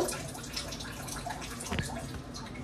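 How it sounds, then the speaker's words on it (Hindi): Water drains from a portable washing machine's tub as it is tilted and shaken, giving a steady, close splashing and trickling wash with a brief louder gush partway through. "मैं इसको अच्छे से ऐसे मूव मूव कर करके ना सारा का सारा पानी बाहर ड्रेन कर लेती हूँ"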